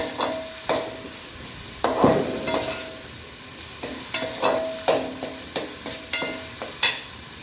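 Crushed tomatoes being stirred and sautéed in a pan, with repeated scraping stirs sounding over a low, steady sizzle, close and moderately loud, with no talking.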